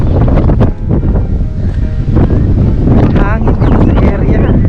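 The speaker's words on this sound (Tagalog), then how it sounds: "Hangin dito sa area." Gusty wind buffeting the microphone on an open headland at Cape d'Aguilar, loud and roaring throughout, with people talking over it.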